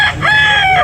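A gamecock for sale at a rooster market in Carbon, Cebu, gives a short loud close-up crow with a clear ringing tone, heard alone.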